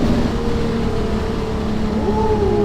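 Honda Accord V6 fitted with an aggressive aftermarket exhaust, rev-matching on downshifts: a loud, steady droning exhaust note with rising and falling engine pitch swells, close up, no speech.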